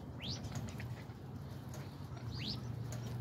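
A male duck near wood duck nest boxes gives two rising, whistled calls a couple of seconds apart, heard faintly over a low background hum.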